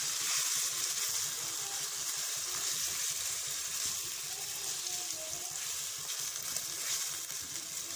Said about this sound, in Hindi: कीमे को भी साथ में भून देना है